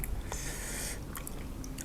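Crunchy boiled beef tendon chewed close to the mic, with steady moist biting and crunching over a dense low background.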